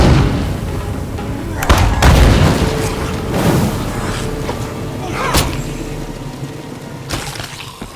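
Gunfire in the zombie survival game State of Decay 2, heard as a few sharp booming shots at irregular intervals over a continuous, busy game soundscape.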